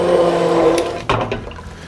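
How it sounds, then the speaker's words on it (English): Handheld immersion blender whirring through braised beef cheek sauce with vegetables, a steady close buzz that cuts off, followed by a few wet squishing sounds. "We're going to use our handheld blender and emulsify"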